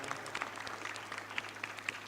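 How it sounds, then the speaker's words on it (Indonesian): Brief applause from an audience at a school anniversary and graduation celebration, a short burst of mixed clapping with some crowd noise. "berikan tepuk tangan"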